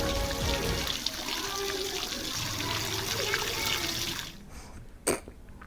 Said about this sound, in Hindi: बिना चलाए ही हैंडपंप से पानी निकलने का यह वीडियो सोशल मीडिया पर वायरल है।